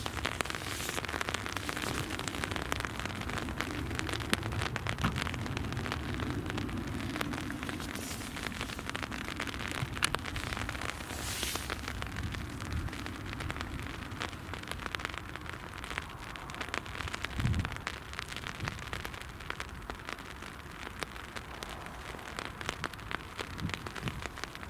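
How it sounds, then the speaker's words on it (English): Steady rain falls at Newcastle International Airport, a dense, continuous hiss of drops on hard surfaces that holds at an even level throughout, with no voices. "the rain has started again."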